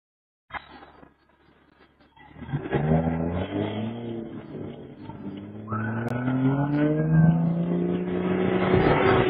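A Ford F-150 pickup truck accelerating hard, its engine note climbing steadily in pitch and loudness over several seconds after a sharp start, close and with no talking.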